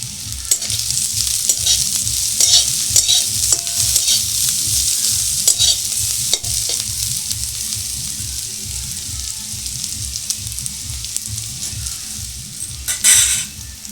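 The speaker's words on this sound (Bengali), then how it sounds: "পেঁয়াজটা ভাজা হয়ে গেছে" Onion and garlic frying in a pan for a spinach dal recipe, a loud constant sizzle with a rhythmic run of stirring scrapes and clacks, ending in a sharper burst of sizzling.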